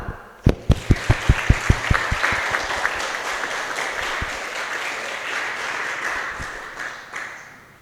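An audience applauds the contestants of a student championship show, a few loud isolated claps at first that quickly swell into steady, dense applause and then trail off toward the end.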